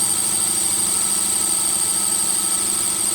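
A Tracker engine idles steadily and evenly up close, a constant mechanical drone with a faint high whine running through it and no voices.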